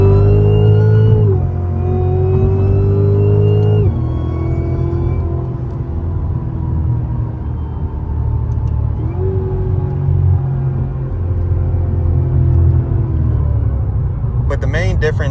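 A Cadillac CTS-V pulls hard in a roll race with traction control partly on, its engine note climbing through several gear changes in a loud, close, rumbling surge while the driver talks over it.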